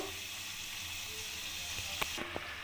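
Kucho nimki, small strips of fried dough, fry in hot oil in small batches, giving a steady close sizzle and hiss that runs the whole time. A few faint clinks and taps break in near the end.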